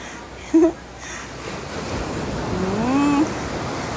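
Strong surf at Nasugbu Beach, Batangas, Philippines washes in as a broad continuous rush, with a short voice calling out near the start and another drawn-out vocal sound later.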